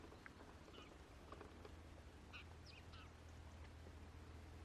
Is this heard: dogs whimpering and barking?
no